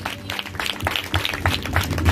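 A Telugu Christian church congregation claps for God, with a steady patter of many hands at moderate volume under a faint voice.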